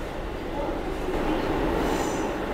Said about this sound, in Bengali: এই কলকাতা এয়ারপোর্ট মানে জয় হিন্দ মেট্রো স্টেশন ছেড়ে বেরিয়ে যাচ্ছে